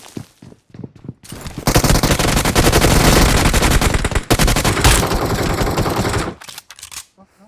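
Automatic gunfire in the PUBG battle royale game rattles loud and close in long continuous bursts, with a short break midway and a few scattered shots before and after.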